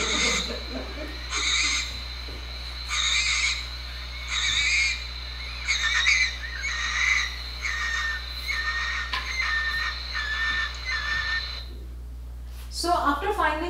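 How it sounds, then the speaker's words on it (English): A mating pair of barn owls in a central Indian forest give repeated harsh, drawn-out screeching calls in regular bursts, fairly loud and close, over steady background hum; a short burst of talk follows near the end. "They're both calling out. And this is a mating pair of the barn owls."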